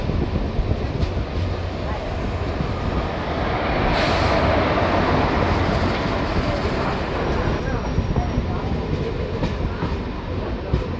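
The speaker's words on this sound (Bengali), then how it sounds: "ট্রেন এসে পৌঁছালো ঝাড়খণ্ডের শিকারিপাড়া স্টেশন" A passenger train rumbles steadily into Shikaripara station in Jharkhand's Dumka district, with continuous loud rolling rail noise and a brief hiss midway.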